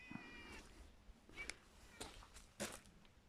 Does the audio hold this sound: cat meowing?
yes